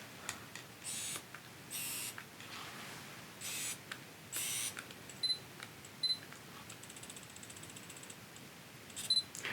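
Autofocus adapter fitted to an old manual camera lens, giving quiet whirring and clicking bursts in short spurts with pauses between, close and fairly faint, with no talking.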